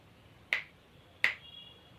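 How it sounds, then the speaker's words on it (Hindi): Two crisp finger snaps ring out close and clear about three-quarters of a second apart, each a sharp isolated crack over a quiet background. "नाम ना पुकारने से पहले तो वो ऐसे चुटकी बजा दे।"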